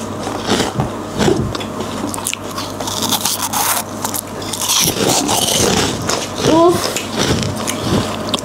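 Hard sugar lollipop candy crunched and bitten close to the mouth, with crisp cracking and chewing sounds scattered throughout while children and an adult talk alongside.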